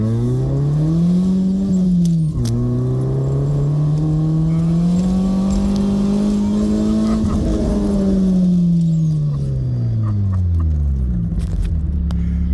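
A Honda Z Coupe, a small Honda 600, climbs a short uphill run, its engine note loud and close, rising and falling through gear changes and revs with a buzzy rumble.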